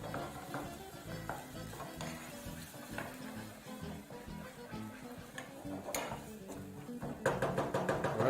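Tomatoes frying in a pot as a spoon stirs and presses them apart, with soft sizzling under repeated scraping and clicking strokes that grow busier toward the end; no talk.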